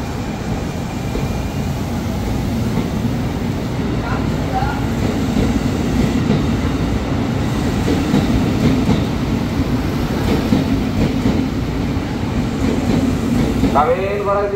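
Train rolling through Jatinegara station in Jakarta, a loud continuous rumble with rhythmic wheel clatter and occasional metallic squeals, while a platform announcement is faintly audible underneath.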